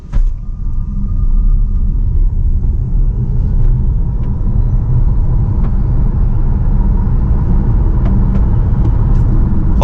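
A Maruti Suzuki eVitara electric SUV with 174 bhp and a 61 kWh battery accelerates hard from 0 to 100, a loud, steady cabin rumble of road and tyre noise swelling continuously.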